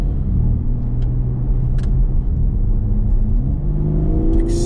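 BMW M3 Competition Touring xDrive accelerating hard in efficient comfort mode, a steady close engine rumble and road roar with a rising whir toward the end, no talk.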